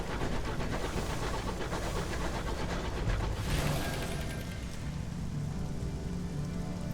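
Steady rain patters across the scene in the video game Sunless Skies, a dense continuous hiss of drops on surfaces that swells briefly near the middle and then eases slightly, with no voices over it.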